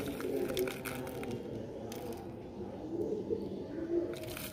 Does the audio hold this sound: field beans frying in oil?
no